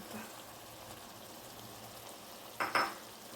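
Chickpeas for vegetarian ghugni cook in oil in a frying pan: a faint, steady sizzle, then two quick scraping stirs near the end.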